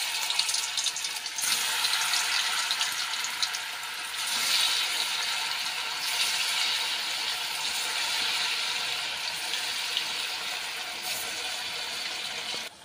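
Potato and raw banana fritters sizzle in hot oil, a steady bright hiss and crackle that flares as each piece drops in, continuous and close throughout.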